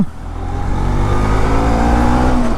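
A BS3 Bajaj Pulsar NS200 motorcycle engine, with about 40,490 km on it, runs steadily up close. A low, continuous rumble holds, with harmonic tones rising slightly as it revs. No one speaks.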